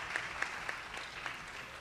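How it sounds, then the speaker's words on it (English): A studio audience breaks into steady applause as a husband-and-wife pair of guests walks onto the stage at a talk-show event; the clapping stays fairly even and moderately loud, with a few sharper claps standing out. "You can applaud for them."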